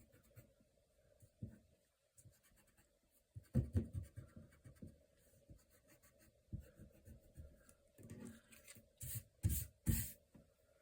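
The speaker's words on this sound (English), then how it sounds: "I can rub the marks out now" An eraser rubs pencil guide marks out of a Happy Planner Creative Journal page, with soft scratchy scrubbing strokes in short bursts that grow busier and louder toward the end, close and quiet with no talking.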